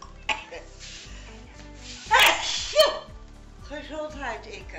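A single sharp sneeze bursts out about midway, followed by a smaller second burst, close and loud over a quiet, low steady background hum.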